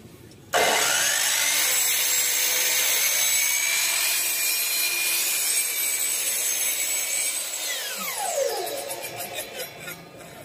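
A Lotus 12-inch dual-bevel sliding miter saw snaps on loudly and whines steadily as it cuts through a long clamped wooden workpiece, then winds down with a falling pitch near the end.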